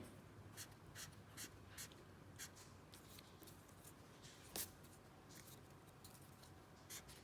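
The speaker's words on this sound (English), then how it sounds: "I'm gonna go in with my eraser and I'm gonna take out some of these extra lines" An eraser rubs out extra pencil sketch lines on paper, giving a string of soft, short scratchy strokes in a quiet room, with a sharper brush-like swipe partway through.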